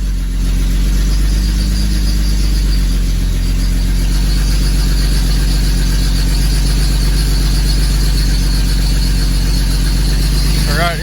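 A 1984 Chevrolet S-10 engine idles through its exhaust with a new clamp fitted, giving a loud, close, steady low rumble that runs evenly without break throughout.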